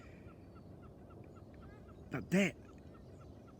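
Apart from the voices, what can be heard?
gulls calling across the sea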